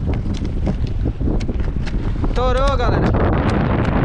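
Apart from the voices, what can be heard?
strong wind during a storm on a fishing boat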